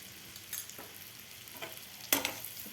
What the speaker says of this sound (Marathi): परत एकदा आपल्याला हे व्यवस्थित अंडे हलवून घ्यायचे आहेत, जेणेकरून सगळा मसाला आपल्या अंड्याला कोट होईल